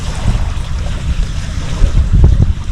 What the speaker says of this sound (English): You can hear the drone of the surf on the surf beach.